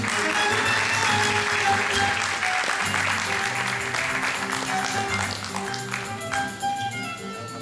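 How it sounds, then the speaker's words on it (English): Audience applause at an LG press event at Mobile World Congress 2011, a dense steady wash of many hands clapping that fills the hall, then thins and fades toward the end. "Applause for Francisco Varela"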